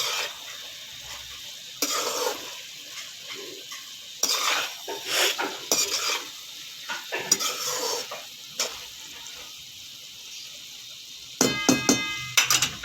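Okra for achari bhindi masala is stirred gently in a pan with a spoon, giving intermittent scraping clinks over a steady low sizzle. No one speaks.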